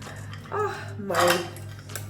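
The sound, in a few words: handling expensive cooking pots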